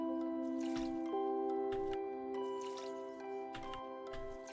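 Plants being watered in the video game Omori, heard as soft repeated drips and squishy splashes at a steady pace, over gentle background music with no talking.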